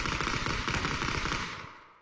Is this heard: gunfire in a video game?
yes